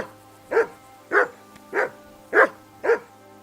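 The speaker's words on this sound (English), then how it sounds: "That barking was a pain in the ass." A dog barks in Kingdom Come Deliverance 2, six evenly spaced barks about half a second apart, moderately loud and close, alone over a faint steady hum.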